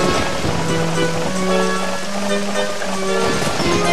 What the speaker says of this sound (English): We play the song that makes it rain.